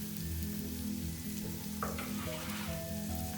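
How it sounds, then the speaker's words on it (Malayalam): Pork with ginger sautés in a pan, giving a continuous close sizzle and crackle with a few brief scraping stirs partway through. "നല്ല ഒന്ന് വഴറ്റിയെടുക്കാം കേട്ടോ"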